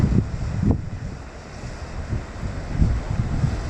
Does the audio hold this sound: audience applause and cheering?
no